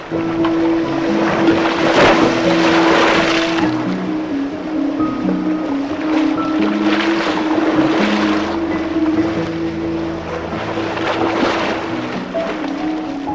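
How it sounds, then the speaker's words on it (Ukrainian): Steady sea waves wash loudly and continuously as a sound effect in a Ukrainian puppet show about Khortytsia island, with surging swells and a faint tonal hum beneath the roar. "Хвиля вас понесе прямо до острова."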